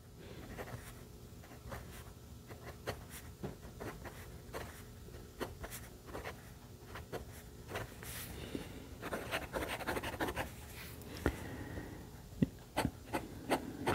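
The nib of a Kaco Edge fountain pen writes on paper, making quiet scratchy strokes with small taps and pauses, close up and without talk.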